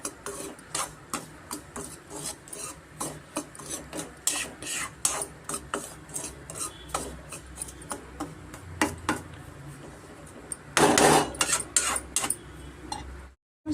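Semolina and dry grated coconut being roasted in a dry pan over a medium flame for rava laddu, giving repeated close scraping and rasping strokes of a spatula, with a louder burst near the end.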